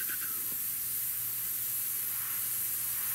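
Gunze Mr Airbrush PS-770 sprays paint with a steady, even hiss of air running unbroken throughout, fairly close and alone, with no voices.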